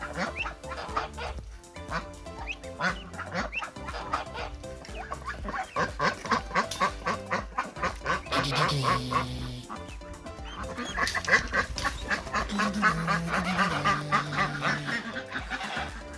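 Hatched ducks quacking in a garden alongside goose-like honks and other fowl calls, a busy layered chorus of repeated calls that continues throughout, with music or other sound mixed in.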